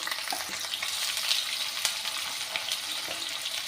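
Sliced onions sizzle loudly in hot mustard oil with whole cumin in a kadai for a bitter gourd dish, with constant crackling close by and occasional stirring.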